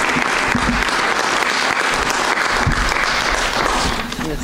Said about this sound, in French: Moi, j'aimerais ça les applaudir.